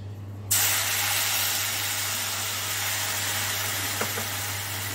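Milk poured into roasted desiccated coconut in a hot pan sets off a sudden loud hiss that settles into a steady, close sizzle.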